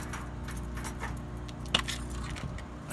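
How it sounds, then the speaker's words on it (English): A bunch of small keys on a single key chain jangles faintly against a low background rumble, with one brighter metallic clink near the middle. "I got all my small keys on one key"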